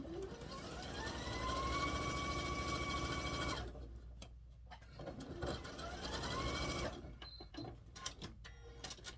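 A home sewing machine stitching fabric for a Christmas table topper, running in a steady mechanical whir that speeds up and stops, pauses, then starts again, close and moderately loud with light clicks between runs.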